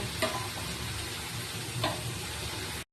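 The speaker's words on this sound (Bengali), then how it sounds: "পেঁয়াজ দিয়ে দেওয়ার পর এবার এগুলো ভাজা ভাজা হতে থাক" Three kinds of peas and onions fry in a pan with a steady soft sizzle and a couple of brief scraping stirs, close by and even throughout.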